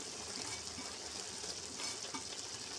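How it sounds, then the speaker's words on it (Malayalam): Grated coconut is stirred into wheat upma cooking in a pan, giving a close, steady hiss and sizzle with soft scraping strokes and no talk. "തേങ്ങ ഇട്ട് കൊടുത്തിട്ട് ഒന്ന് ഇളക്കി യോജിപ്പിച്ചിട്ട് വീണ്ടും അടച്ച് വെച്ച് കഴിക്കാം"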